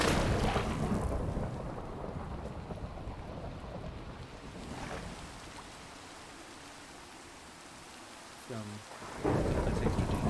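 Rain and thunder in a video game with a rain-on-water mod: a loud rolling thunderclap fades into steady falling rain, then a brief tonal blip and a sudden return of heavier rain.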